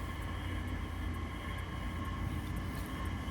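A train passes nearby with a continuous low, heavy rumble and a broad steady roar that fills the whole clip without change.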